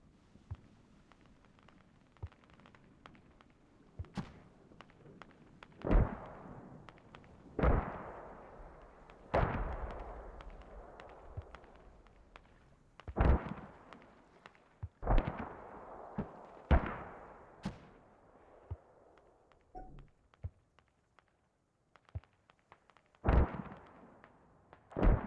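Repeated heavy booms of mortar fire in the military shooter Squad, some near and loud, others fainter and more distant, landing every second or few seconds with little else in between.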